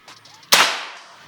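A single sharp crack from a Blldox Xmax air rifle fitted with a power plenum, close and loud, its report decaying quickly after a faint lead-in rustle.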